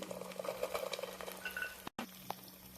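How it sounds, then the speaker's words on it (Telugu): Peas, beans, carrot, potato and cauliflower pieces go into onions and curry leaves frying for a vegetable dum biryani: a steady, close sizzle with stirring scrapes, then a brief drop to silence before the frying resumes. "ఆనియన్స్ వేగాయి కదా, ఇప్పుడు వెజిటేబుల్స్ వేసుకుందాం"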